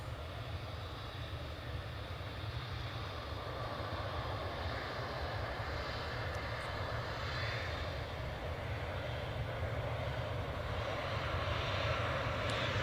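Qatar Airways Boeing 777 engines at Manchester Airport, a steady loud broadband jet roar that holds evenly and rises slightly toward the end, heard from fairly close with no voices.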